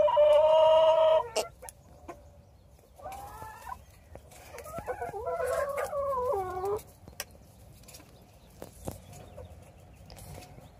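Chickens cluck and squawk close by while pecking at an apple, with a loud burst of clucking at the start and a longer run of calls in the middle, then quieter gaps.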